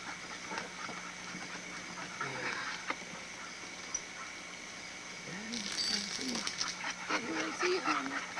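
A pit bull panting in a breeder's yard, rapid rhythmic breaths close by with a few small whimpers, under a voice talking.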